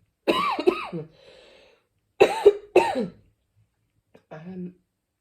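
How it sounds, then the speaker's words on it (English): Several harsh coughs in two separate bursts, with a softer throat-clearing sound at the end, close and fairly loud in a quiet room. "Excuse me, I'm going to cough."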